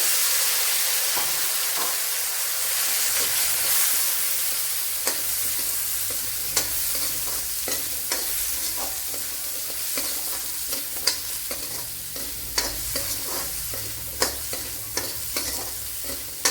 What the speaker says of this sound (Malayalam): ഇതിനെ നല്ലവണ്ണം ഒന്ന് വഴറ്റിയെടുക്കാം